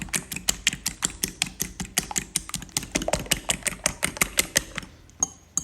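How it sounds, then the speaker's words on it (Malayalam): A fork beats eggs for omelette batter in a bowl, making rapid, evenly spaced clicking taps at roughly five per second, close and crisp, continuing alone for about five seconds before stopping. "ഇനി ഒരു ഫോർക്ക് എടുത്ത് നന്നായി ഇതിനെ ബീറ്റ് ചെയ്യാം."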